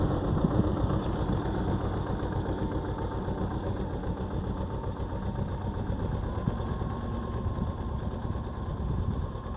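A T-25 tractor engine pulls a Bellota/Kverneland plough through a field, a steady, continuous low rumble with a constant vibrating drone and no pauses, mixed with wind outdoors.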